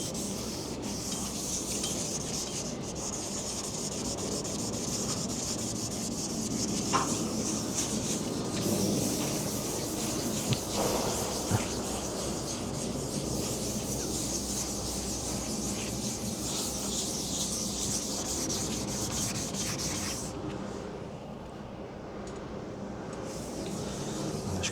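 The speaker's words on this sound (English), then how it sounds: "you can always tell when it's getting dry because the sandpaper starts to get very milky and it starts to drag" A van wing being wet sanded by hand with sandpaper, a steady close scratchy rubbing that continues throughout with little change in rhythm.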